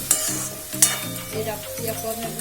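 Mushrooms fry in hot oil for a mushroom masala curry, a close steady sizzle with a couple of sharp stirring clinks near the start.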